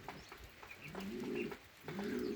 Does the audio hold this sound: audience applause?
no